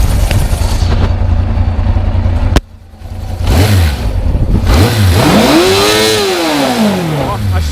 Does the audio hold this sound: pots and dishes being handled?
no